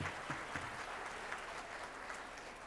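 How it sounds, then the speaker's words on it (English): A crowd at Glendale's 2024 State of the City address claps for the city's new businesses, producing a thick, even wash of applause with a few sharper claps near the start, sustained throughout without any voices. "Okay, let's clap for that."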